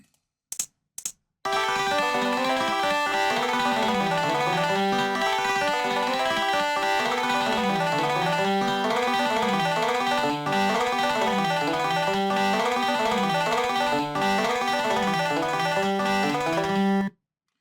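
Bright synthesized plucked strings from MIDI tablature-software playback play a steady, busy picking pattern, one guitar and two banjo parts layered at an even tempo, after a few short clicks.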